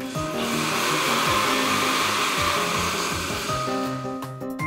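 A motor-powered kitchen blender runs steadily at close range, a dense whirring roar with pitch wobbles that eases toward the end as it spins down.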